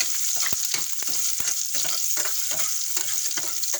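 Garlic and ginger sauté in a pan for sinigang, giving an up-close sizzle punctuated by several sharp spatula clicks against the pan.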